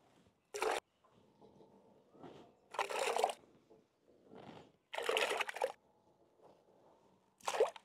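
Cut potatoes are washed in water in a kitchen, with quiet sloshing and several short, splashy bursts of stirring water separated by near-silence.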